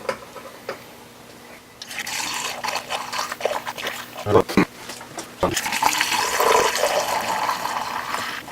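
Coolant poured into the engine of a 2004 BMW 325xi during a rebuild, a gurgling liquid rush that starts after a quiet moment and continues with glugs and splashes, fairly close.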